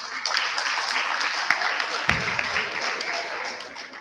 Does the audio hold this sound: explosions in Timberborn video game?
no